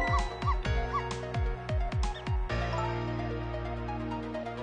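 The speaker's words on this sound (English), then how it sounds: "if you bark like that, you'll make the lady next door start howling" Barking from a dog in the video game Ghost Trick: about seven sharp, close, loud barks in a quick uneven burst, followed by a steady sustained game tone with no talking.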